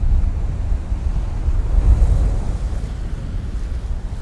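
Ocean surf at Pattaya Beach before sunrise rumbles in a continuous low wash that swells and recedes, loud and close, buffeted by heavy wind noise on the microphone.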